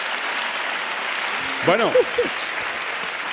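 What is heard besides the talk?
studio audience applause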